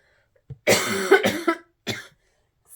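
A few sharp coughs close to the mic, a harsh burst followed by shorter ones, then a final lone cough after a brief pause.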